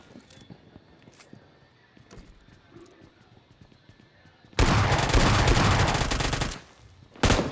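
Gunfire in the PUBG Lite battle royale game: after quieter in-game ambience with scattered small clicks, a loud, dense burst of rapid automatic fire runs for about two seconds, then a second burst starts right at the end.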